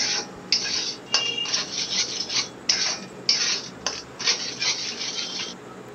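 Spice paste for a Bhola fish curry stirred in a pan, a spoon scraping the metal in repeated rasping strokes with short pauses between them, close and fairly loud with no talking.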